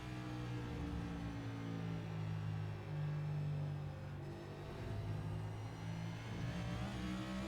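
Simulated NASCAR NextGen race car engine from the iRacing game at Charlotte, droning steadily loud with shifting revs under partial throttle through a corner, no talking.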